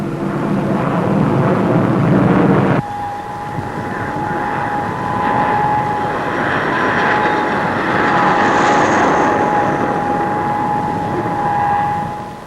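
English Electric Canberra jet aircraft in flight, a loud continuous roar with a steady high whine running through it, sustained without a break.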